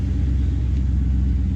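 A T-top car's engine idles low and smooth with a steady close rumble. It runs alone, without speech.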